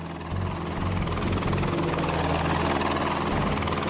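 Helicopter carrying the Stardust capsule back to base, steady loud rotor chop and turbine whine throughout, close and continuous with no voices.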